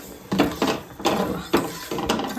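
A spoon stirs coffee in a metal pot on a home stove, giving several close scraping and clinking strokes in an uneven rhythm.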